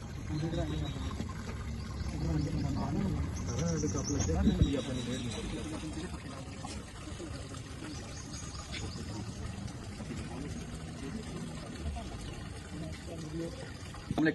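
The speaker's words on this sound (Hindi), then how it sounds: "इसलिए आहिस्ता आहिस्ता पानी को भरना है ताकि हर जोड़ के ऊपर पानी आ जाए।" Water being poured slowly into bathroom drainage pipes for a pressure test, a soft continuous pouring and trickling at low level, steady throughout with faint background noise.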